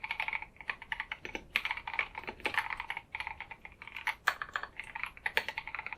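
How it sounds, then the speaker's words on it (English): Steady typing on a custom-built mechanical keyboard with tactile switches, a dense, light patter of keystrokes with small bursts and pauses, close and clear, no voices. "If I'm just typing like that"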